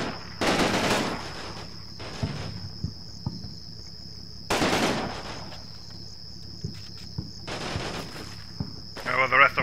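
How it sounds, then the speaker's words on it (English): Machine gun fire in the wargame Combat Mission Red Thunder, two loud sustained rattling bursts separated by a pause, with scattered single shots and a constant high insect-like chirp in the background. "Yeah, that machine gun is a bit annoying."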